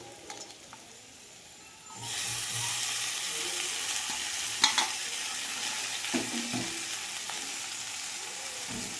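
Boiled atta noodles go into a pan of fried vegetables. A quiet background gives way to a loud, steady sizzle as they land, and scraping stirs with occasional sharper spatters continue over the sizzle.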